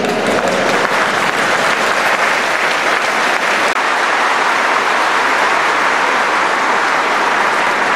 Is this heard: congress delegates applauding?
yes